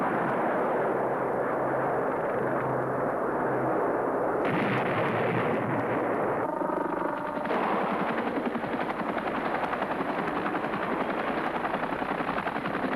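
A Cobra attack helicopter launching a TOW missile, heard as a loud, continuous rumbling roar of rotor and weapon noise with a sharper burst midway, sustained throughout with no talk.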